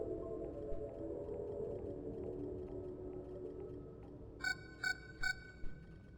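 An eerie, drawn-out whale-like moan drifts through the space horror game Voices of the Void, low and hollow over a droning hum, followed near the end by four bright metallic gong-like chimes in quick succession.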